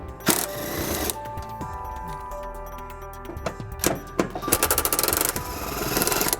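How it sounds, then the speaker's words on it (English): An 18mm socket removes frame bolts on a 2000 Jeep Grand Cherokee during a trailer hitch install. Harsh rattling bursts alternate with quieter stretches, and a fast run of metallic ratcheting clicks comes near the end. "we're going to remove these two bolts on the bottom of the frame, and we're going to be using an 18mm socket to do that"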